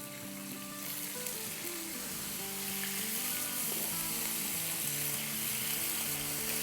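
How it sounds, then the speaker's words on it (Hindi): Paper-thin chicken slices fry in oil in a pan over medium-high heat, giving a loud, steady sizzle and crackle that swells a little after they go in, with no talk. "ये अब हम अपनी थिन स्लाइसेस डाल देंगे इसमें"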